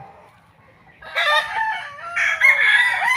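A rooster crows loudly and close by among chickens in a small coop behind a house, the long call rising and falling over about two seconds after a quieter stretch.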